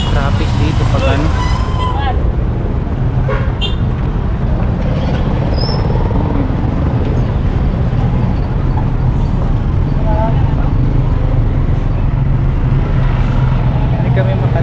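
Busy road traffic streaming past near Agusan Marsh, a constant low engine rumble with passing vehicles and an occasional hiss or brake squeal, while voices talk over the din.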